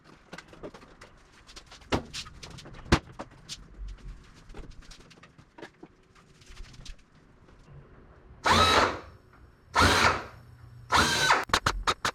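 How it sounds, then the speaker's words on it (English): A power drill drills metal for an RV-7A kit airplane build, spinning up in three short bursts near the end, following scattered clicks, taps and faint background noises. "we can attach it and match drill it with the rest"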